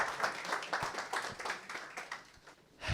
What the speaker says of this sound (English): Give a round of applause for Mounir.